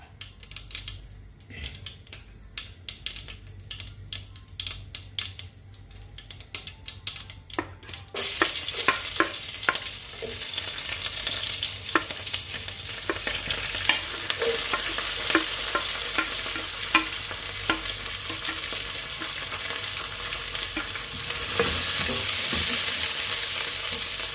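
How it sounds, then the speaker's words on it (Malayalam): Mustard seeds pop and splutter in hot oil for Kerala beetroot thoran, starting as sparse crackles and building into a dense, loud sizzle, with no voices. "ഇനി കടുക് പൊട്ടി വരുന്നുണ്ട്."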